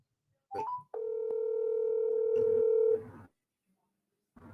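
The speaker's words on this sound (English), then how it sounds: "I'm calling you on your phone." A phone dial tone rings out as a call is placed: a brief chirp, then a steady sustained tone lasting about two seconds before cutting off, with faint talk in the background.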